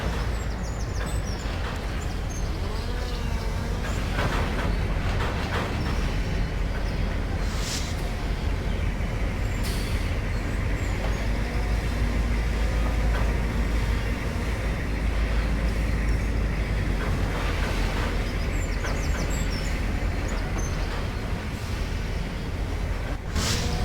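A logging train runs in Trainz Railroad Simulator 2019 on a Smoky Mountain lumber run, giving a steady rumbling, rolling drone with occasional clanks and sharp metallic knocks over about twenty seconds.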